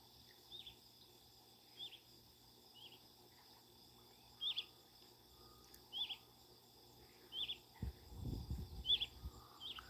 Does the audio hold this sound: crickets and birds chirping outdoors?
yes